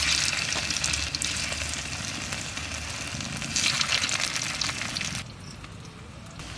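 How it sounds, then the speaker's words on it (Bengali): Potatoes fry in plenty of hot oil, a dense, loud, continuous sizzle up close with faint stirring scrapes, easing slightly near the end. "বেশি করে তেল দিয়ে ভাজতে হবে আলুটা।"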